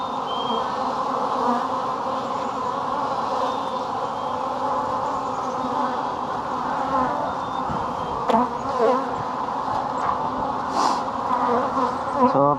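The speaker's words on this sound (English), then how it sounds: "because there's a lot of bees in this hive too" Loud, continuous humming of a crowd of overwintered Iowa honey bees at an open hive close by, a thick steady drone with a few sharper bumps and knocks.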